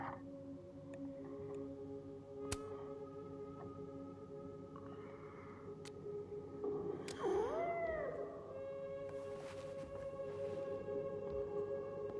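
A cat meows within the video game Life is Strange: Double Exposure, a few drawn-out mewing calls rising over a steady hum of game music and ambience.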